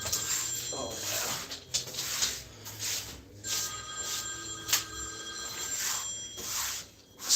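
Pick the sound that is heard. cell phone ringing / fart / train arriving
cell phone ringing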